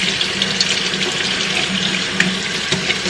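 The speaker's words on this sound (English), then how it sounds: "So that's why you keep your cold water running." Cold tap water runs steadily into a sink while squid is rinsed for kilawin na pusit, a continuous close splashing hiss with no talk.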